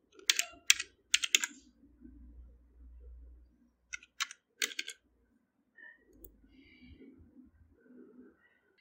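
Password typed on a computer keyboard: quiet clusters of quick key clicks in short bursts with pauses, while a pigeon coos softly in the background.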